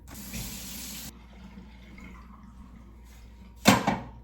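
Water runs from a tap in a steady, close hiss for about a second before it is shut off. A sharp clatter follows a few seconds later.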